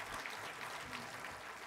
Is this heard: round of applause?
yes